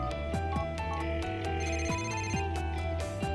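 A telephone rings in the video game GTA 4, a repeated electronic ringtone with a rhythmic chiming pattern, loud and continuous with no speech.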